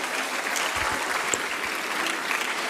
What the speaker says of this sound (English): Let's give them another round of applause for their incredible talent and energy